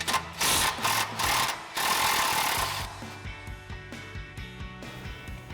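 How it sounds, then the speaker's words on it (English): An impact wrench with a 16mm socket on an extension hammers loose a shock mounting bolt on a Jeep Wrangler JK, loud bursts of rattling first, then a softer series of rhythmic clicks and knocks. "So we'll grab our 16mm and our extension on our impact."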